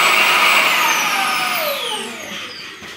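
A Shark cordless stick vacuum cleaner runs on boost mode, a loud, close, high-pitched motor whine and airflow rush that gradually winds down in pitch and level as it powers off, with no talking.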